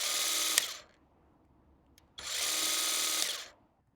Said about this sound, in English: To make the tool work, you would press the button on the side